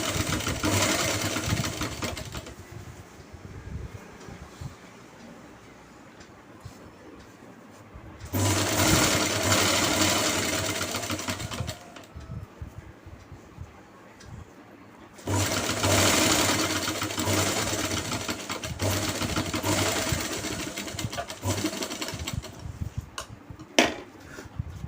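A sewing machine runs in bursts while stitching the bottom hem of a pair of pants, its steady mechanical whir starting and stopping three times, loud and close, with no talking.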